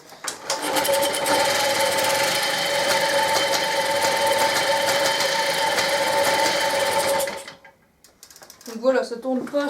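Small Motobecane 41V moped engine idling roughly with a poorly adjusted idle, a close, steady buzzing drone that drops away near the end, followed by someone speaking French.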